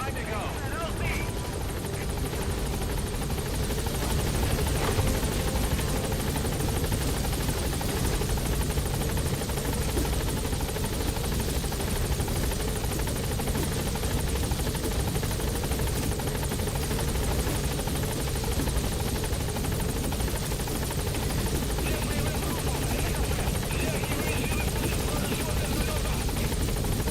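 Helicopter in Metal Gear Solid V: The Phantom Pain inbound to a landing zone, its steady rotor drone loud and continuous throughout, with game dialogue heard over it.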